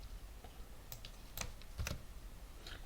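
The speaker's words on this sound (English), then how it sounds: "type it out" Typing on a computer keyboard: a few sparse, close key clicks and taps in quick bursts, quiet and alone with no talking.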